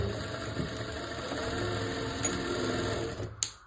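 A sewing machine runs steadily, stitching a seam along a baby's frock fabric, its close, continuous mechanical whir holding an even rhythm before a sharp click and a brief stop near the end.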